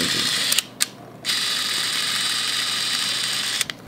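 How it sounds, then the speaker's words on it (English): An 8mm film camera mechanism whirs steadily up close with a bright, buzzing mechanical drone, broken by short stops and restarts and a few clicks near the start and end. "It's an 8mm film camera."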